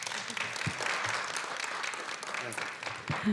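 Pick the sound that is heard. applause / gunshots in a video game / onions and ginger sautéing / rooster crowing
applause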